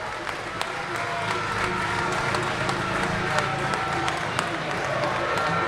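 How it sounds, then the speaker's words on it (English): Spectators in a speedway grandstand applauding the riders, steady distant clapping and crowd noise spread across the stand, with a commentator's voice running over it throughout. "They're going to get the applause of people here in the stand"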